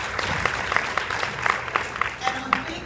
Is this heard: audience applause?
yes